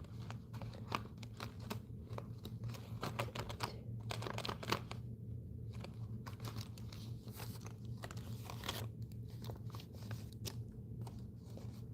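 Paper crinkling and rustling as an origami dragon is folded, a faint close-up series of short dry crackles and soft rubbing bursts over a low steady hum.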